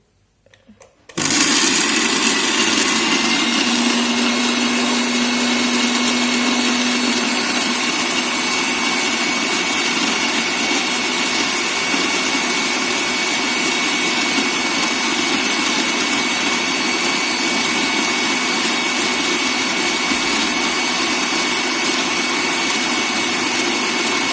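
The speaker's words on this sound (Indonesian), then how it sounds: "Saya akan memulai blendernya" A blender switches on abruptly and whirs loudly and steadily for the rest of the clip, a continuous high-pitched motor drone.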